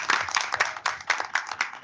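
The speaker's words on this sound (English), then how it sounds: "I think a round of applause." A meeting audience at a college board of trustees session applauds to welcome a new HR chief, with bright, fairly loud clapping in uneven bursts throughout a short stretch and no talk over it.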